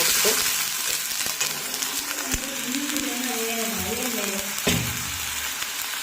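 Water poured into a hot oiled pan with turmeric powder sets off a loud, steady sizzle and crackle that holds for several seconds, with a short sharp clatter near the end.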